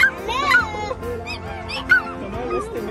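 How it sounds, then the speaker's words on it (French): A duck at the Granby Zoo gives several loud, nasal honks close by, in bursts with short gaps, while children chatter and play in the background. "Le canard."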